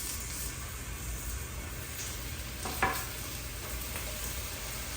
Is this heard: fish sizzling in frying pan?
yes